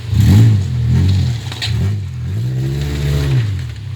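A car engine fitted with an aftermarket exhaust revs in loud, rising and falling pulls, close by and with no talk over it.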